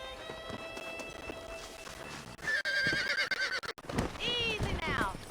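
Horses in Red Dead Redemption give loud whinnies, one long and one rising and falling, near and sharp, over a soft clatter of hooves and ambient game noise.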